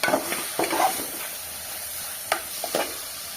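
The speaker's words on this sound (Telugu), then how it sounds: "మన చిక్కుడుకాయ బాయిల్ అయిన చిక్కుడుకాయ వేసుకుందాం ఫ్రెండ్స్ ఇంట్లో వేసుకొని మంచిగా మిక్స్ చేసుకోవాలా" Boiled broad beans are stirred into a tomato masala curry, giving a few soft, scattered scrapes and a faint sizzle from the pan.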